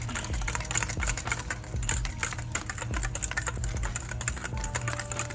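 Vegan French toast batter whisked briskly in a bowl, a rapid run of light clicking and tapping strokes up close, continuous and uneven in rhythm, with no voices.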